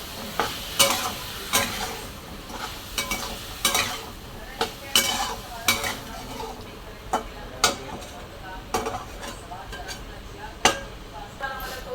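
Cauliflower and potato stir-fry with salt and coriander powder being stirred in a pan, a spatula scraping and clinking in irregular close strokes over a soft sizzle.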